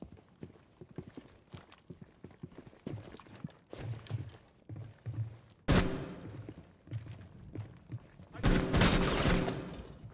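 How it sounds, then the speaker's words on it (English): Gunfire strikes a defensive shield in a tactical shooter, a quiet clatter of small impacts and steps that breaks into two loud, dense bursts of rapid shots hammering the shield. "He literally shot my shield away."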